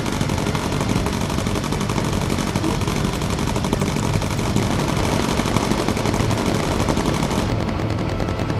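Aircraft machine guns in the Bomber Crew game fire as a continuous, loud, dense rattle over engine drone, sustained throughout with no pauses.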